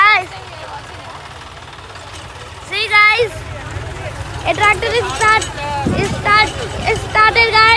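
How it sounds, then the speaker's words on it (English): A tractor engine in a farm field rumbles low and steady at idle, with a knocking chug running underneath as voices talk over it fairly close by. "There's another tractor is starting."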